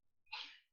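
A single short sneeze, close and fairly loud, bursting out after a faint breath in an otherwise quiet moment.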